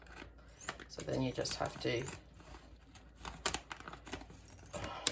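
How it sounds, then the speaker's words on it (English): Scissors snip a plastic rice bag near its seal, with crinkling close by, irregular cuts and rustles, while a person speaks briefly. "if my scissors would work, just chop off where the seal is"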